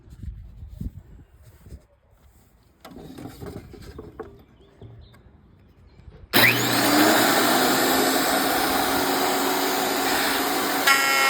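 A thickness planer feeds an end grain board, starting abruptly partway through with a loud, steady, broadband roar that holds at full level to the end after quieter workshop rustling.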